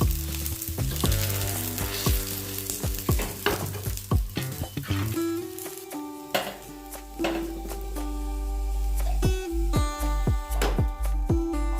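Sweet poli (opputtu) cooking on a hot pan, with a steady bright sizzle running throughout, punctuated by repeated sharp metallic scrapes and taps of a utensil against the pan, and no talking.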